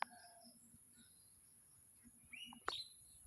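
A bird calls faintly in quiet surroundings, giving a few thin whistled notes spaced apart, then a rising sweep and a brief sharp chirp near the end, with a faint insect hum beneath.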